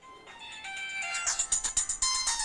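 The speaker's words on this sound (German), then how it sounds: "Schon wieder ein Anruf." A phone rings with an incoming call in a home in India, a bright electronic ringtone building to a run of evenly spaced pulses near the end, heard alone without talk.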